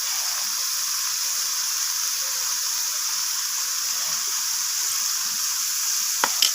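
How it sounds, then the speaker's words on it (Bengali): Ground turmeric, red chilli and cumin powders fry and sizzle steadily in hot oil in a pan, a close continuous hiss with a brief clink near the end. "সমস্ত কিছু মশলা এইভাবে নাড়াচাড়া করে একটু ভেজে নিচ্ছি মশলাগুলোকে"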